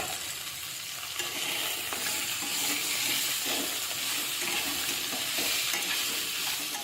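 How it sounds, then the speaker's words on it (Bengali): Potatoes and onions fry lightly in a pan for a paneer vegetable medley, giving a continuous close sizzle with scraping stir sounds and a watery hiss running underneath, without any talking. "আলু আর পেঁয়াজটাকে হালকা ভেজে নিতে হবে।"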